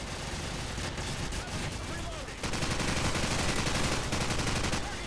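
Rapid bursts of gunfire from Call of Duty 4: Modern Warfare Remastered shooting through a wall, dense and continuous crackling shots that grow louder midway and persist to the end.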